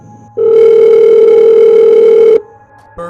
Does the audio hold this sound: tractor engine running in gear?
no